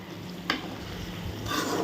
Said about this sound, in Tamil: நல்லா மிக்ஸ் பண்ணி விடுங்க.